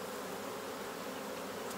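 Honey bees hum in a dense, steady buzz from an opened hive after a little smoke, close and continuous throughout the short stretch.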